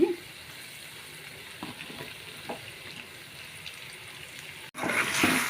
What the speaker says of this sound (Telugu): మ్యాంగో తురుము కూడా దీనిలో వేసేసుకున్నామండి ఇట్లా పోపులో వేసుకుంటే